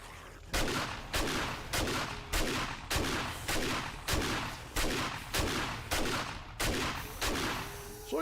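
Gunfire in the video game 7 Days To Die, fired at zombies: evenly spaced loud shots repeat about every half second in a steady rhythm, with no talking.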